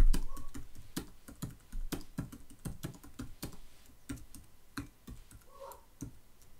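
Steady typing on a computer keyboard, close and fairly loud, a quick run of distinct key clicks with brief pauses while text is entered into a QR code generator.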